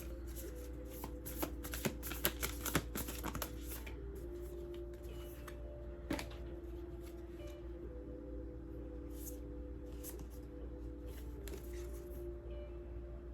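A deck of tarot cards being shuffled close up, with quick riffling bursts clustered early and scattered soft card flicks later over a quiet, steady background hum.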